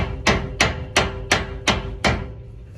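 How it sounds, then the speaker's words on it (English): An oversized rubber mallet drives a trailer hub bearing into place with six evenly spaced, loud, close thumping blows and no talking. "let's go ahead and kind of hammer this into place. I like a rubber mallet that's oversized"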